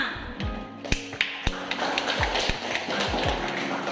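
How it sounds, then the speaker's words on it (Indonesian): Applause in a classroom: a few sharp, distinct claps at first, then a dense round of clapping from many hands that continues to the end. "Kita kasih aplaus dulu kepada Mbak Ulfa Diana."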